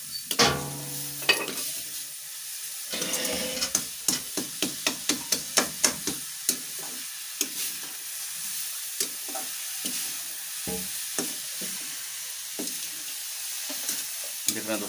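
Carrot halwa with sugar and milk being stirred in a pan in a village kitchen, a long run of rhythmic metal scrapes and knocks over a continuous bubbling sizzle, close and fairly loud.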